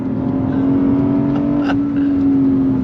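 A 2024 Lexus IS 500 F engine holds a loud steady drone heard from inside the car, with a faint mechanical whir and a brief click midway.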